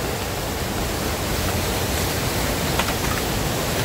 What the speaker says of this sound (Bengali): আমাদের পিছনে হচ্ছে থানকুয়ান ঝর্ণা